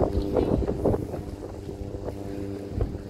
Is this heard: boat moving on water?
yes